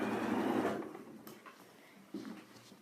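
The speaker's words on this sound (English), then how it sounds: "you just sew along down that edge" A sewing machine runs along the edge of an invisible zip, giving a brief close mechanical whirr that fades out, then restarts softly near the end, with no talk over it.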